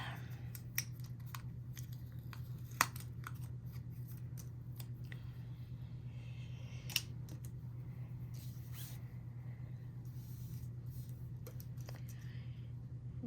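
Scissors cut a heart-shaped paper card panel for a flip-front fold card: sparse, quiet snips and clicks over a steady low background hum, with no speech.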